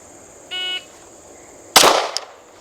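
A shot timer gives a short electronic beep during defensive handgun drills, followed about a second later by a loud, sharp gunshot that rings out briefly.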